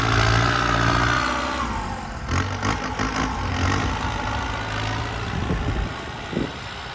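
A small tractor engine runs steadily with a low, rattling chug and a constant hum, nearby, with no talking, at a temple fair in Kham Khuean Kaeo district, Thailand.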